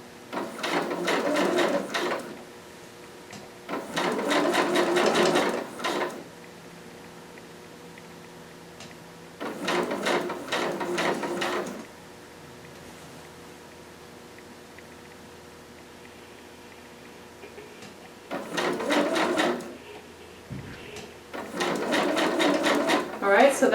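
A home sewing machine runs a long basting stitch down fabric in bursts of a few seconds, its rapid mechanical chatter starting and stopping repeatedly, with soft pauses between runs.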